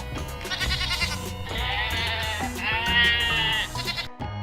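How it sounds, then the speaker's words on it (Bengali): Wavering, bleating cries like a goat kid's rise over a bright, busy musical backing in a children's alphabet song, repeating several times before a sudden brief cutoff near the end. "ছতে ছাগল ছানা লাফিয়ে চলে"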